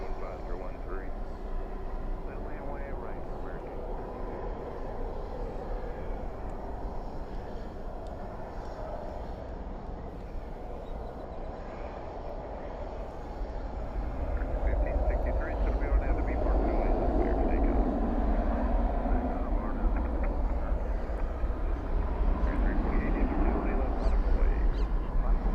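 A jet airplane at Dallas/Fort Worth International Airport at night rumbles steadily in the distance, swelling louder in the second half, while people talk over it.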